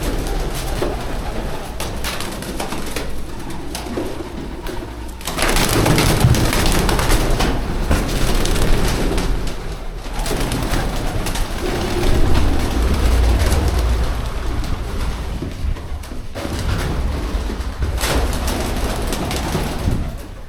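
A large flock of pigeons fills the air with continuous, dense cooing and fluttering wing noise that swells louder in bursts and stays close and busy throughout, with no voices heard.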